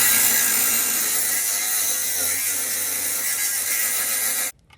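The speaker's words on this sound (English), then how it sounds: "All right, so we got the Sawzall right here." A Sawzall reciprocating saw cuts through the metal of an EK car, a harsh, continuous rasping buzz held close and loud for about four and a half seconds before it suddenly cuts off.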